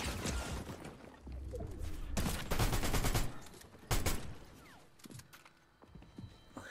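Gunfire in Fortnite, with rapid bursts of loud shots in clusters and short pauses between them, ending in a few scattered fainter pops.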